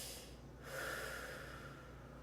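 Slow, deep breathing during a lower-body fascia stretch: a long, airy inhale or exhale through the nose, close and soft with no talking.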